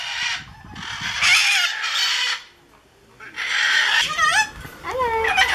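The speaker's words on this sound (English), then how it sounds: "This is a very naughty bird." A pet talking bird calls in short squawking, whistly bursts with rising and falling pitch, fairly close and loud, with a brief pause midway and low room noise underneath.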